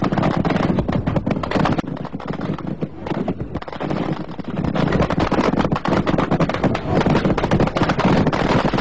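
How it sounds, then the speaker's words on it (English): Dense, continuous bursts of gunfire from 37mm anti-aircraft guns fired from battleships, loud and rapid with overlapping shots and clattering impacts, barely pausing throughout. "the Chinese used battleships for firing with 37mm anti-aircraft guns directly at the unarmed and light-armed Vietnamese"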